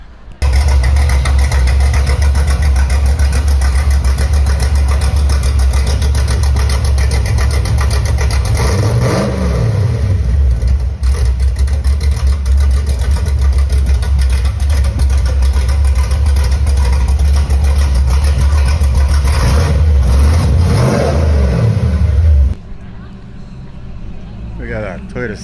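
A car with a 468 engine idles loudly and steadily at a car show, with two brief revs rising and falling before it cuts off; voices talk faintly in the background.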